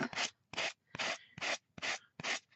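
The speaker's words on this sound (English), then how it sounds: "gently sand away the excess from the bottom" Sanding the excess off the bottom of a £1-shop candle jar: six loud, close rasping strokes in an even back-and-forth rhythm, with no voices.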